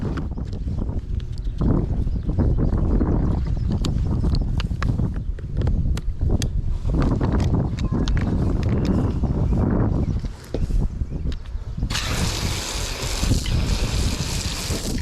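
A foam cannon sprays wax foam onto a black Jeep Wrangler 392. The spray makes a loud, continuous hissing rush up close, mixed with wind buffeting, and carries on steadily for about fifteen seconds.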